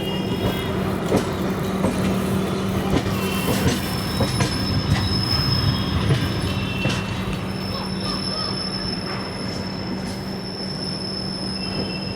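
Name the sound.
Vidarbha Express train arriving at Nagpur Junction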